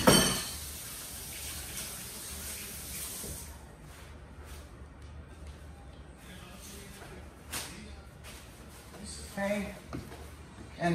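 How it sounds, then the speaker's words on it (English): Hands are rinsed under a running kitchen tap while pastries are being made, a steady close water hiss that stops partway through, followed by light handling noises. "Just rinsing off my hands as usual."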